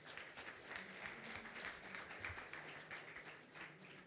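An audience at an urban low-tech presentation applauds the presenter, a continuous patter of many hands clapping, distant and faint but steady throughout.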